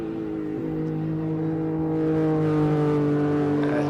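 A classic car at the Simola Hill Climb accelerates up the course, its engine note climbing steadily in pitch as it revs through a gear, heard from moderately close with no speech.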